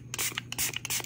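Short bursts from a spray bottle of alcohol misted over resin pieces to pop surface bubbles, several quick close hisses in a rapid uneven rhythm.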